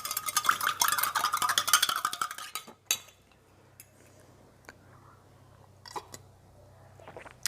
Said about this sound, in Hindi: इसको और मिक्स करता हूँ।